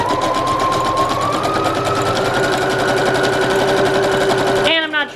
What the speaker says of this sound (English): this is why I like this sewing machine so much